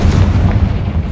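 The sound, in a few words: Confringo spell explosion from video game Hogwarts Legacy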